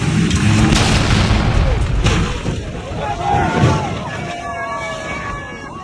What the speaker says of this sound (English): the first truck launches through the air and smashes into the brick tower